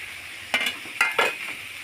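Onion and finely chopped green chili frying in oil with curry leaves, turned over in the pan: a few quick scraping stirs over a soft, steady sizzle, close by, with no speech.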